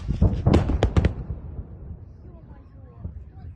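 Explosions at Saky airfield in Crimea heard from a beach, a quick cluster of heavy booms over the first second that fade into a low rumbling tail.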